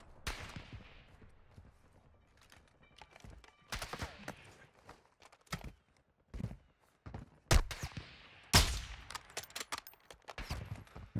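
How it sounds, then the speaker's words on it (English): In Call of Duty DMZ, sniper shots ring out as a series of sharp, loud cracks spread irregularly across quieter stretches of ambient noise and faint movement. "we're getting sniped at, that's for sure"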